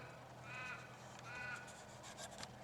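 Outdoors in bushland near Waroona, a crow caws twice, well spaced and moderately distant, over a steady hiss of wind and background ambience.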